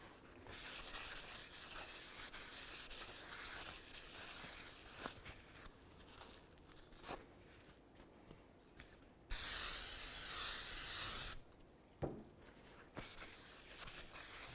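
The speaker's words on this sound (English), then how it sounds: "you're going to want to make sure you clean down both sides of it on the braking surfaces" A new front brake rotor for a 2000-2005 Buick LeSabre, oiled for shipping, gets both braking faces wiped clean: close, steady rubbing and scrubbing, then a loud two-second burst of spray hiss before the rubbing resumes.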